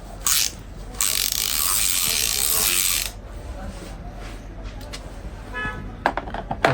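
A 3/8-drive ratchet handle clicks as it tightens a 10 mm flank socket, bursts of rapid pawl ratcheting up close, followed by quieter scattered clicks and handling noises.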